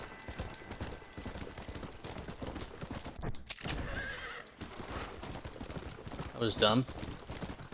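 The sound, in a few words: horse neighing and hooves in video game Red Dead Redemption: Undead Nightmare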